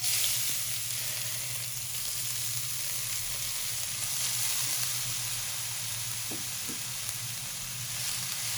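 Half a kilo of grated carrots fries in ghee with cardamom for carrot and rice kheer, a steady moderate sizzle and hiss with a few faint stirring knocks, and no talking.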